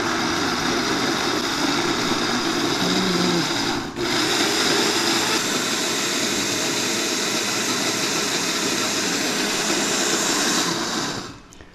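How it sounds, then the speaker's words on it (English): A cheap countertop blender purees hot sauce paste, a loud, continuous motor whir with one brief dip before it winds down and stops at the end. "So this is only a cheap blender."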